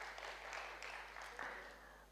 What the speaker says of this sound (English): Clap for all of us, constant bestowers.